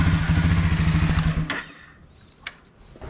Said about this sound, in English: Now I have to run the bike for a little bit and make sure that the oil circulates throughout the engine